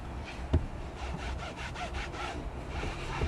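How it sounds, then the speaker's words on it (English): Foam cleaner being wiped off a Volkswagen Tiguan panoramic sunroof, soft, quiet rubbing strokes with a faint scratchy texture and a small knock near the start, no talking. "Just going to wipe this off so it doesn't leave any residue"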